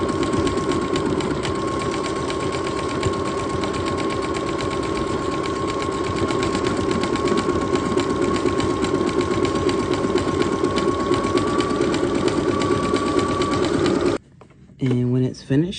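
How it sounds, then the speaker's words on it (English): A Brother SQ9285 computerized sewing machine stitches a buttonhole in a steady fast mechanical whir that runs continuously before stopping abruptly, with a brief voice at the end. "start sewing. And the machine will automatically stop and automatically put reinforcement stitches"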